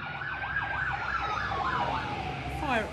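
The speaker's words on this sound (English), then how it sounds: "I feel like we're in New York with ambulances going by" Wailing sirens rise and fall as ambulances and a fire engine pass in Melbourne, Australia, the pitch sliding downward, with a faster yelping siren joining near the end over traffic noise.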